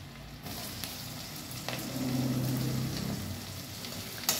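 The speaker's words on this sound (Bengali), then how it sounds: "পেঁয়াজটা দিয়ে একটু লাল করে ভেজে নেব।" Onion with nigella seeds and green chili fries in hot oil in a Bengali sea-fish curry pan, giving a steady soft sizzle that swells briefly with some stirring.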